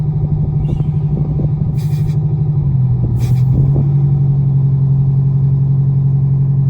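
A 1977 MCI MC8 coach with a Detroit Diesel 8V71TA engine idles and moves off in gear, giving a loud, steady low diesel drone with a brief dip in pitch and a couple of hissy air bursts.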